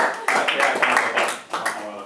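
Quick clapping from a small group of onlookers gathered around a table after a hypnosis demonstration, a few bursts of claps close by that fade and pick up again over about two seconds.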